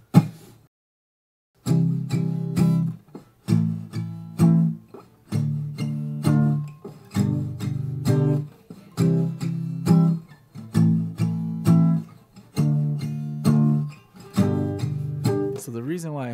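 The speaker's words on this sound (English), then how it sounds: "We're just using 3 down strums for each chord." Acoustic guitar strummed with palm muting, three short down strums on each chord through a simple four-chord pattern, played alone in steady, evenly spaced groups of percussive, damped chords.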